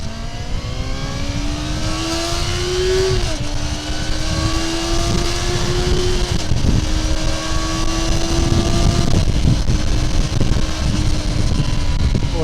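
A Yamaha FZR400RR motorcycle engine revs loud and close at high rpm, its pitch climbing and dipping in a few sustained pulls across the whole stretch.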